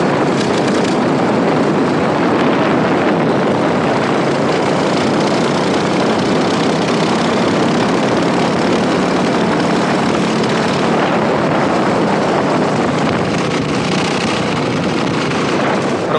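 A CRG FS4 go-kart engine drones continuously at a steady high pitch, loud and close, with slight shifts in intensity and no speech.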